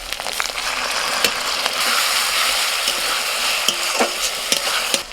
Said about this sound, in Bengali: পেঁয়াজ আদা টমেটো সমস্ত কিছু একটুখানি ভেজে নেওয়ার পরেতে